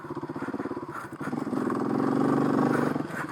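A Kawasaki KLX 250 dual-sport motorcycle is ridden, its single-cylinder engine thrumming in a pulsing rhythm and then rising into a steadier, louder drone, heard close up.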